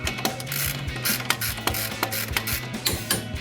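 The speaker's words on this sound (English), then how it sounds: "I suggest torquing it to 89 foot-pounds" Ratchet wrench clicking rapidly and steadily while torquing a shock bolt on a Silverado 2500 front Bilstein shock install, a close, dry mechanical rattle in quick bursts with no talk.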